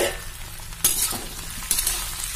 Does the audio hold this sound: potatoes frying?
yes